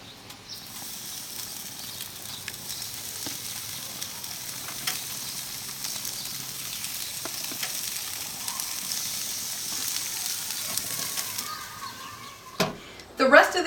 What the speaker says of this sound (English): We're going to be grilling these pork chops for about 4 minutes aside on a hot grill.